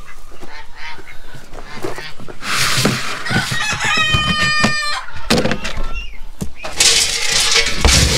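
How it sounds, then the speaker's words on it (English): On a farm, chickens cluck and a rooster crows loudly and close, with honking, goose-like calls mixed in and overlapping in busy bursts, over a constant barnyard din. "crazy looking chicken?"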